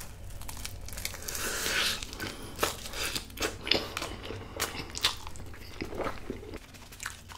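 Close, crisp chewing of a lettuce wrap filled with stir-fried spicy pork, home-cooked and served with doenjang stew: wet crunching bites and crinkly leaf sounds repeating steadily for several seconds, with no talking.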